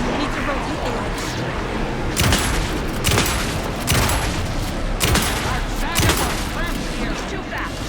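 Dense automatic gunfire in Alan Wake 2, loud sustained bursts with sharp sharper cracks recurring roughly every second over a continuous din, no speech in this stretch.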